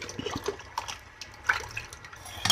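Water pours and splashes into a pot of green gram broth in short uneven bursts, with light liquid gurgles and drips, close by.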